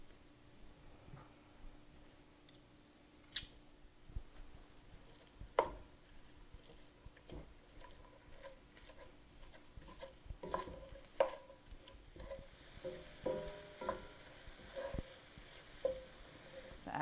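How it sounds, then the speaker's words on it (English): Ground beef with onions and peppers frying in a skillet, a steady low sizzle with occasional sharp clinks and scrapes of a utensil stirring, close and moderately quiet with no voices. "Add your ground beef to a skillet and your onions and peppers"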